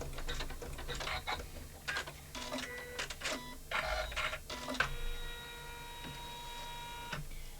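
An embroidery machine stitches a small wallet held in the hoop, giving a steady run of close mechanical ticking and whirring bursts, broken by short pauses, with a faint electronic tone near the end.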